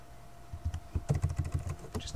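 Typing on a computer keyboard, a quick irregular run of close, crisp key clicks that speeds up into a steady patter, with faint room tone beneath.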